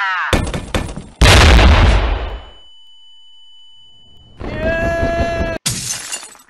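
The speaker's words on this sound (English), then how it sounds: "Flashbang." A flashbang grenade goes off in a video game with a sharp, loud blast that decays into a high ringing tone. Then comes a second burst of harsh, warbling noise and a final loud crack.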